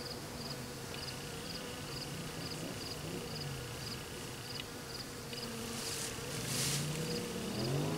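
Honey bees swarming around frames as they are installed into an observation hive, a steady close buzzing drone throughout with a faint repeating electronic beep in the background, no voices.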